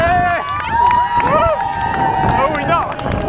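Loud crowd cheering and shouting near the finish of a city half marathon in Naples, with whistles and voices rising and falling close by, and people talking over the din.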